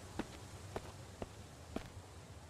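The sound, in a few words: footsteps in video game Mist Survival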